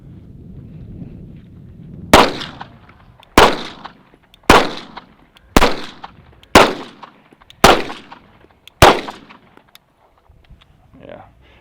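Seven sharp gunshots from a Staccato P Duo 2011 pistol crack at a range, spaced about a second apart and loud and close, each with a short echoing tail, after a low murmur at the start.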